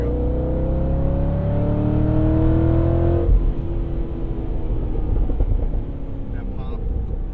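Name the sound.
Corvette C6 Z06 engine accelerating with exhaust pops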